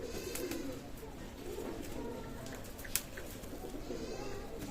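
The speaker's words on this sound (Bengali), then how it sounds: "টেডি কবুতর ওমান ব্লাড লাইনের এবং র ব্লাড লাইনের টেডি কবুতর" Teddy pigeons of Omani bloodline cooing in a loft, soft low murmuring coos blending with constant background noise and faint chirps, with one brief sharp click near the end.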